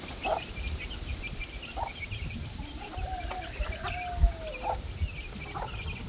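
A mother hen clucks softly a few times at a distance, with a short drawn-out call among the notes, over constant outdoor background noise.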